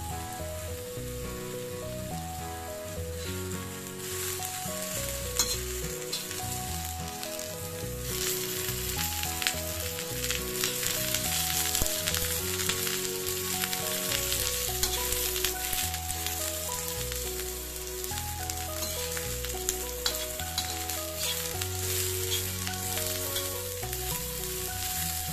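Onion roasting over a lit gas burner while making Nashik-style usal gives a steady, close crackling sizzle that runs the whole time under continuous background music.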